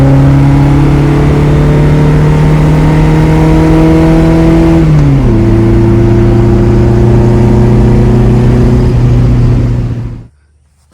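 Volkswagen car engine with carburetors, running steadily while driving, a loud continuous drone that drops in pitch around midway as it shifts, then cuts off near the end.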